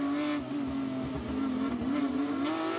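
Porsche Supercup race cars at Monza roar past with a loud, sustained engine drone, the pitch bending as they accelerate and brake, tires faintly squealing at moments.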